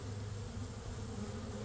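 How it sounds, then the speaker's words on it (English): A swarm of honeybees shaken into a trap buzzes densely and steadily, close up and continuous with no speech. "I shook the bees into the trap."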